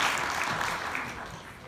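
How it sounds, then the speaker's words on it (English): Audience applause for the top ad sales girls, a dense, steady clapping that fills the short moment and fades slightly toward the end. "let's give these girls a round of applause"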